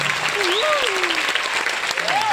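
Enthusiastic crowd applause at an agricultural product presentation, continuous dense clapping throughout with voices calling out over it.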